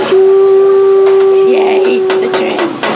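A train whistle sounds one long sustained steady note, loud and fairly close, with some hiss and faint background voices.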